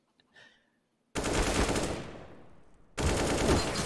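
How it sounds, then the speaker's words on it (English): Loud rapid gunfire from a Counter-Strike match in a professional esports game, with two sustained automatic bursts separated by a brief pause after a faint quiet moment at the start. "Nice headshot from Pleasant though."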